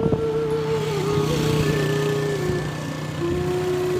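A motorcycle carries children toward a park on Eid, its engine giving a steady, close droning hum with shifting tones as it rides along at a constant loudness.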